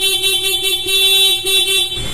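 A stock horn on a Sniper 155 motorcycle blares in a few rapid repeated toots run together, loud and close, ending abruptly.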